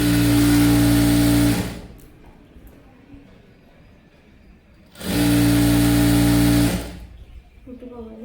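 A sewing machine stitches saree fabric being made into a dress, running in two loud steady bursts of about two seconds each, with quiet pauses between and a voice speaking softly at the end.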